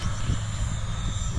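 An F5 airplane streaks past an airfield at around 120 mph with a steady, close engine roar and rumble that holds for the whole moment, with no voices.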